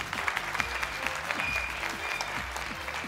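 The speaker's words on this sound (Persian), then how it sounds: "دوستا تشویقشان کنم." A studio audience on a Persian-language Family Feud game show applauding, a steady, dense wash of clapping across the whole stretch, close and loud.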